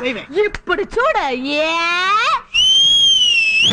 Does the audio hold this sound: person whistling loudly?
yes